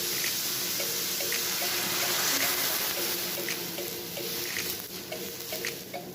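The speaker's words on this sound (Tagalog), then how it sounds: "So after natin ma-isutay ang chicken breast, lalagay na natin ang ating chicken soup stock." Chicken soup stock pours into a cooking pot for chicken sotanghon soup, a steady splashing water rush with faint drips and clinks over about six seconds, no talking.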